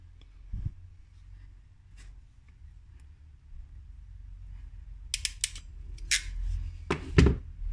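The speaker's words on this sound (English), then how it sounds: "Now what I do is I pop them into the crimper." A hand crimper closes on small wire terminals in a quiet indoor workbench setting, giving a few sharp metallic clicks and ratcheting snaps, the loudest bursts near the end over a low background hum.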